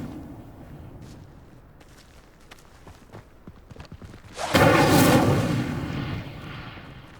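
In Hogwarts Legacy, the Incendio fire spell erupts in a sudden loud, roaring whoosh after a stretch of quiet ticking steps, then fades over about two seconds.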